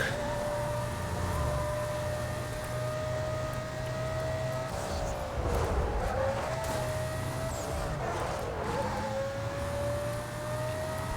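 Black Porsche Carrera GT racing in Need for Speed Most Wanted, a steady high engine whine rising and falling with gear changes, with brief tire-squeal skids midway, loud and continuous.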